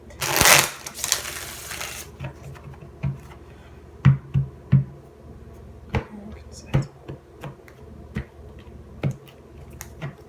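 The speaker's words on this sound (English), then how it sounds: "it's your last shuffle here." A sharp riffle of tarot cards is followed by scattered soft snaps and taps of the cards being handled, close and intermittent.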